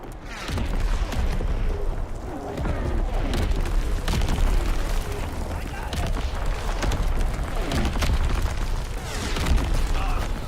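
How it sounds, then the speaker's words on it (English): Enemy artillery shells explode in Call of Duty: WWII as a constant loud battlefield rumble of booms and blasts, with someone talking over the din. "Incoming enemy artillery. Get to cover."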